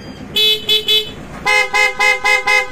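A PIAA horn on a Kymco AK 550 scooter honks in short bursts, a few lower toots, then four louder, brighter blasts in quick succession.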